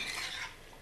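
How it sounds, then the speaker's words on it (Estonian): A rhubarb and sugar mixture being stirred gives a brief, soft, wet scraping swish that fades quickly. "Nüüd, kui see mahlane segu on suhkruga"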